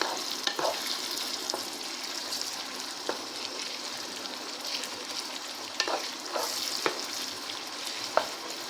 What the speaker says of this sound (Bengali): পেঁয়াজটা ভালো করে ভাজা হোক